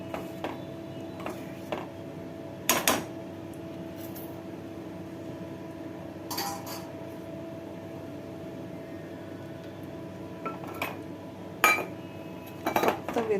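Three hundred grams of jaggery melting with a little ghee in a pan while being stirred, heard as scattered sharp metallic clinks and scrapes of a spoon against the pan over a steady low hum, with no talking.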